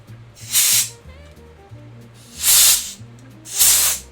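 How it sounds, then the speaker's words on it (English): Three loud bursts of compressed air from an air compressor hiss sharply in short blasts about a second long, spaced evenly apart, with faint low mechanical hum between them, close to the microphone. "Use air compressor."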